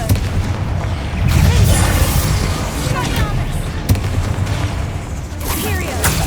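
Booming blasts from the Confringo fire spell in Hogwarts Legacy, several heavy explosive hits with rolling crackle between them, loud and close, with a voice talking over parts of the clip.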